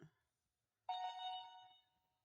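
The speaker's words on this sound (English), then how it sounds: "Sorry, that's my phone going off." A mobile phone rings once with a bright chiming tone that starts suddenly, rings out and fades, faint and alone in a quiet room.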